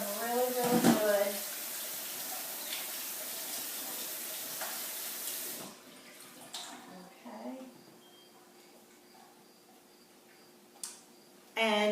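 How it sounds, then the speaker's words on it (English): Tap water runs over soaked almonds being rinsed, a steady splashing hiss for the first half that drops to a quieter trickle, with brief talk near the start and a sharp clatter near the end. "I'm going to go get rid of the water and rinse them."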